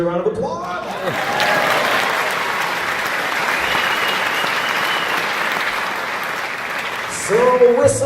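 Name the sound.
live concert audience applause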